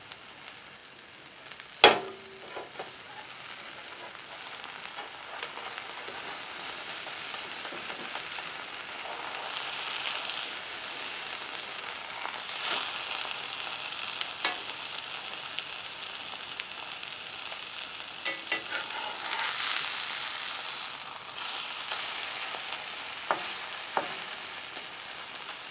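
Eggs frying in a pan as a mixed fry give a soft, continuous sizzle for the whole stretch, with occasional faint scrapes and clicks from a spatula.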